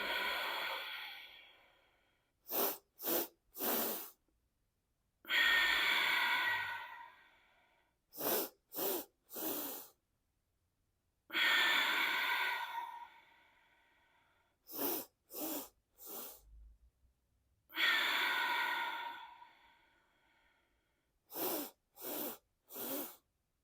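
Deep breathing during a yoga-style exercise practice: long, forceful exhales alternate with quick, sharp sniffing inhales in a repeating rhythm. The breaths are close and clear, with silence in between.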